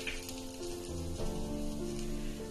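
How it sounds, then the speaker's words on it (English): Chana dal and urad dal roasting in a pan, a steady close sizzle and crackle with faint scraping, alone and without talk. "The chana and the urad are getting roasted well."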